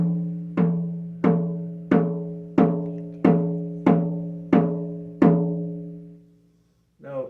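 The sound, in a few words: 10-inch reindeer hide European peg style frame drum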